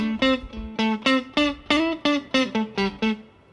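Electric guitar played through a lower-output pickup, about a dozen clean, evenly spaced plucked notes, each ringing briefly with rich harmonics, close and clear with no talking.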